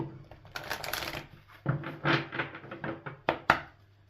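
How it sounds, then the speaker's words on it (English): A deck of tarot cards is shuffled in several quick, crisp bursts of riffling and tapping, close and fairly quiet, with short pauses between them. "Do one more shuffle."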